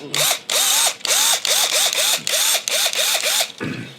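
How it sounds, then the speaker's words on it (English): A loud power drill whirs in repeated short bursts, each one rising and falling in pitch, with brief gaps between them and a clunk at the end. "play with the drill."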